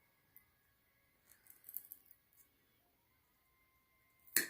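A wall decor piece being trimmed down to size, a few quiet scattered snips and scraping cuts close by, ending in a short sharp louder cut.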